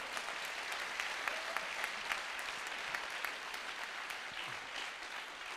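An audience applauds at a ceremony in Vichy, producing a sustained wash of many hands clapping with a few sharper individual claps standing out, moderately loud and continuous throughout.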